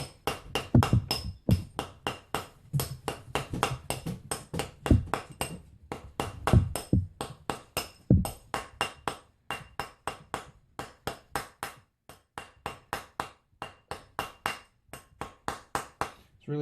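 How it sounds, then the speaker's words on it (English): A clad quarter coin ring hammered around a mandrel while it is turned: a long run of sharp, ringing metallic taps, steady and evenly spaced, close and loud throughout. "we're just hammering around the thing, turning it the whole time as I go"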